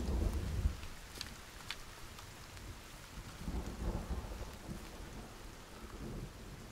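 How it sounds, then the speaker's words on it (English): Low rumbling thunder rolls under a steady hiss of falling rain in the video game Sons of the Forest, fairly quiet and distant, with no voices. "the sound of the thunder when it's raining"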